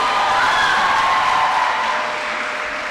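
A college media event audience gives a steady round of applause for a woman guest, with dense clapping and a faint whoop mixed in, slowly easing off toward the end.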